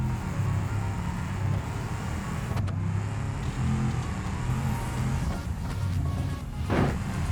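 A taxi in the BeamNG.drive driving game cruises over bumpy terrain while escaping a tsunami. Its engine drones steadily and continuously at close range, with a brief sharp transient partway through and a short whoosh near the end.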